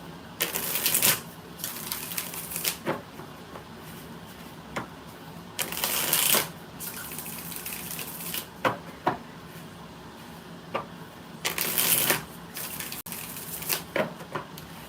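Tarot cards being shuffled in repeated riffling bursts, each a crisp rapid flutter, with quieter handling and light taps in between; close and clear, no talking.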